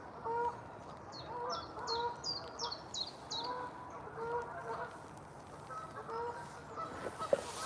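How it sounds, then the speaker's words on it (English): A male swan on a park trail gives a series of short, honking calls in quick bursts, close by and over a steady outdoor background. "Oh, I think that's the male swan actually."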